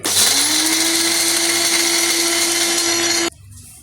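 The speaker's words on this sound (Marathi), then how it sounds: "त्याची आधी पावडर करून घेऊ मग हे प्रथम आपण मकाणे बारीक करून घेऊ" An electric mixer grinder whirs at full speed, powdering fox nuts (makhana) for laddoos, a loud steady motor drone with a rising whine that cuts off sharply near the end, no talk.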